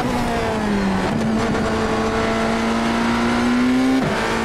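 A BMW M Hybrid V8 LMdH race car engine drones loud and steady in the iRacing video game, with a sustained high rev note that dips at a gear change early on and again near the end.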